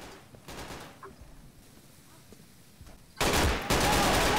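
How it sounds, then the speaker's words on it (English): Gunfire in the tactical shooter Insurgency: a few scattered distant shots early on, then a sudden loud, close burst of rapid fire that continues through the end. "I shot the dude in the fucking eye, and he was okay."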